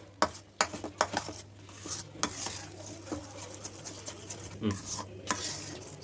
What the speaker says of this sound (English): you have to keep on stirring it so that it must not get burnt the bottom